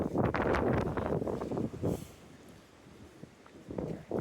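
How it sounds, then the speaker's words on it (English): Gusts of wind on a mountain hiking trail, a rushing broadband roar that is strongest at the start and near the end and eases in the middle, with no one speaking. "it's windy."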